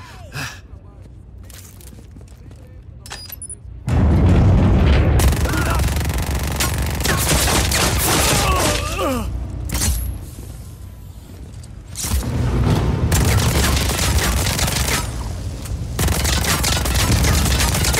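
Rapid bursts of gunfire and booming explosions in the video game Just Cause 4, in loud, chaotic waves, with faint breathy voices and gasps mixed in.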